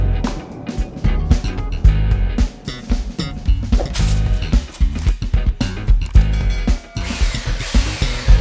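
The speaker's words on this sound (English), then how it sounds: "let's start by sanding this down." Loud, gritty power-tool buzz comes in bursts with brief pauses, like a sander working against wood close by.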